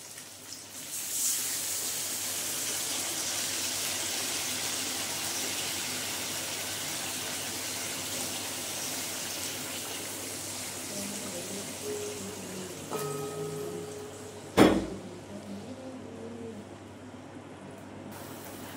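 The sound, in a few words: water poured into pan of fried fish and spices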